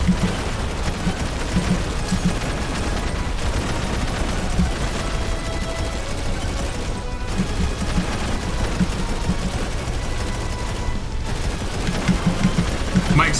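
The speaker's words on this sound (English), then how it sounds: "My explosive rounds are so good." Explosive rounds firing continuously in the video game Megabonk, a dense, steady rattle of rapid shots and small blasts that stays loud and even throughout, with no pauses.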